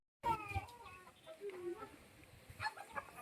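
Hens clucking in a village yard, a handful of short, bright calls in loose succession, fairly close and clear, with no one talking.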